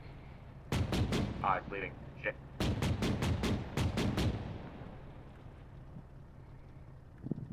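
Video game gunfire from an armored unit's weapon, a burst of two sharp shots followed by a rapid string of about eight loud reports, with brief talk between the volleys and wind-like rumble underneath.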